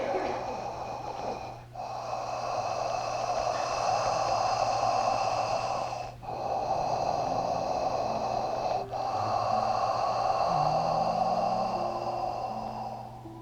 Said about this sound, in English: they would jokingly call it Darth Vader breathing, because that's what it sounds like